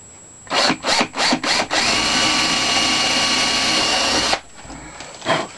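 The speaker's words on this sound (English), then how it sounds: "I use a slightly wider drill, not much, maybe a 5mm at the most, yeah, and then drill down" A power drill with a 5mm bit whirs in short bursts, four quick pulses, then a sustained run of about three seconds, followed by two more brief spins, close and loud, with no talk.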